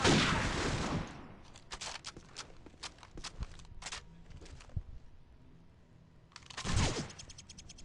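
Sharp gunshots from a Call of Duty 4 match, a loud opening burst followed by a string of quick, spaced single cracks and a second loud blast near the end, with quieter gaps in between.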